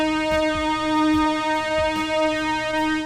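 A synthesized brass lead sample plays a sustained, steady harmonic tone with faint rhythmic percussive hits beneath it, alone and without voices.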